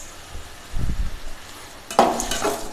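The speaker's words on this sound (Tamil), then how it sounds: "இப்போ இதை நல்லா வதக்கி விட்றலாம்" Tomatoes and onions sautéing in a pan for Tamil tomato thokku, with soft sizzling and a few scraping stirs of a spoon against the pan, moderately close and with no talking.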